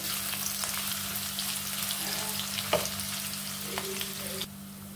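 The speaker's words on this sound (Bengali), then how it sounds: "তেলটা গরম হয়ে গেছে, এর মধ্যে পেঁয়াজগুলো দিয়ে দিচ্ছি।" Sliced onions fry in hot oil, a steady close sizzle with a low hum beneath and an occasional knock or scrape of a spoon, dropping suddenly to quieter sizzling near the end.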